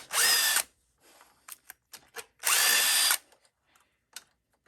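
A cordless impact wrench backing 12mm bolts out of the starter on a Honda lawn tractor. It fires two loud, close, sustained bursts, each under a second long, with clinks and handling noise between them.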